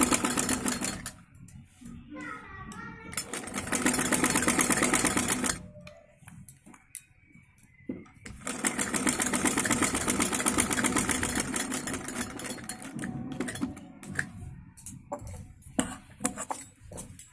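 A sewing machine stitches a kameez kurti in two long loud, close bursts of whirring, clattering motor, with short pauses and quieter handling noise in between.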